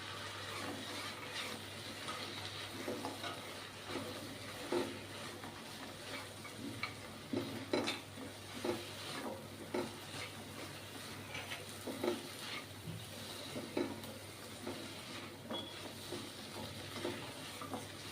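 Idli pieces stir-fried in a pan with red chilli sauce for Chinese idli, giving a steady low sizzle broken by repeated scraping stirs and light clicks of the spoon against the pan, heard alone with no talking.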